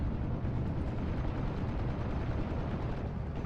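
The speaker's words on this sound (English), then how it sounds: "we're seeing a lot of fire from the Bofors" Rapid, continuous Bofors gun fire in the Steel Division 44 war game: a dense, rumbling barrage of overlapping booms with no gaps, loud and steady throughout, and no voices.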